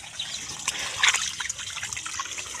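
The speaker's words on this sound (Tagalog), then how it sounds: "Agasa ang tubig ko." Tap water being left to run in a rural yard, a steady broadband trickle and splash that continues throughout at moderate level, with a few louder gushing moments near the middle.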